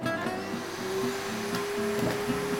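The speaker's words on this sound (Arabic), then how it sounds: "هتحطي شوية نقط من الزيت على القطمة كده، وبعدين هنشفطها جوه المكنسة" A vacuum cleaner sucks up a cotton pad dotted with drops of essential oil, giving a steady, close whirring drone with a constant high whine that holds for the whole stretch.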